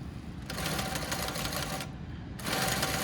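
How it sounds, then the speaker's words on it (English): A sewing machine top stitches around a shirt cuff, its needle running in steady continuous bursts at close range, with a brief pause before it starts up again. "I'm going to continue with my top stitching all around the cuff"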